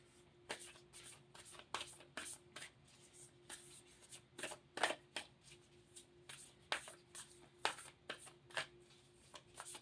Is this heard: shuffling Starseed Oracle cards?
yes